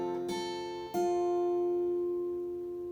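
Two fingerpicked acoustic guitar chords, E then B, ring out, the second struck near the one-second mark and left to sustain and slowly fade.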